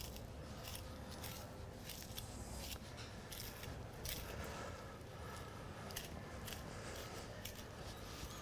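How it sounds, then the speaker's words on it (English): A knife blade held at a sideways angle scrapes along the gristle of a wagyu beef knuckle, a close, continuous wet rasping with irregular scratchy strokes and no talking. "we'll use the blade in a sideways angle to scrape along the gristle"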